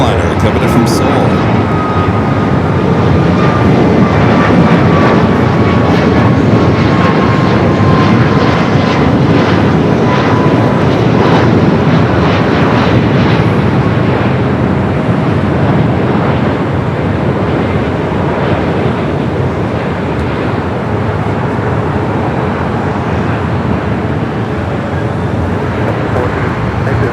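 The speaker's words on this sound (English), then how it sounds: "That's Air Premia Flight 101, the 787-9 Dreamliner coming in from Seoul." An Air Premia Boeing 787-9 Dreamliner from Seoul lands at LAX. Its jet engines roar loud and steady with a faint falling whine, under heavy wind buffeting, and a voice talks at times over the noise.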